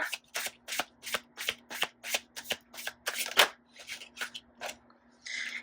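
Tarot cards shuffled in quick, crisp riffling bursts, about a dozen evenly spaced flutters close to the mic with no voice over them.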